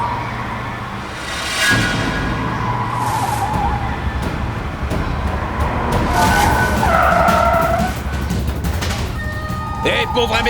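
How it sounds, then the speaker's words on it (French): Car skidding after losing a tire in a dramatic TV scene, loud screeching tire noise swelling across the span with engine roar and a whining, siren-like tone, mixed under music and effects. "Je crois qu'on a perdu un pneu."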